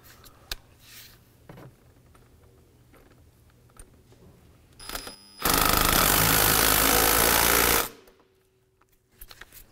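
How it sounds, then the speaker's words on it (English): A ratchet with a 10 mm socket tightens a hose clamp during replacement of a vapor canister purge solenoid valve on a Hyundai Sonata. A loud, continuous, rapid clicking burst runs for about two seconds after faint handling noises. "With our 10 mil socket, we'll go ahead and tighten down our hose clamp on the bottom first."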